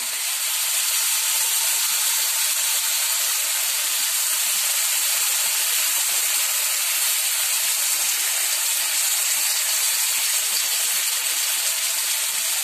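Potato tikkis frying in oil or ghee on a pan give a steady, dense sizzle and hiss, close and unbroken throughout with no talking.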